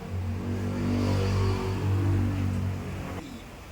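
A Yamaha Nmax v1 scooter engine revs on a test drive, a steady, loud, close mid-pitched drone that swells and eases over several seconds before dropping off near the end.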